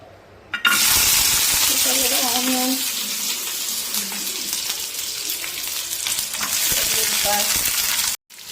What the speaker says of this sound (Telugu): ఆయిల్ వేడైంది కదా, ఇప్పుడు ఇందులో ఆనియన్, వెల్లుల్లిపాయలు,